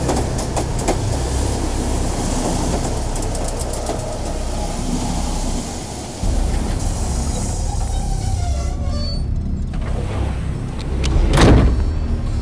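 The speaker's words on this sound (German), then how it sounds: "Und da ruckelt der Zug weg." A train in the Here They Lie game rumbles and clatters heavily as it jolts away, with a dip and a fresh surge midway and a louder burst toward the end, no voices.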